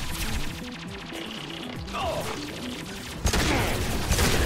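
Pistol shots in Mass Effect 2 combat, sharp reports over game music and effects, with a louder burst near the end; no talking.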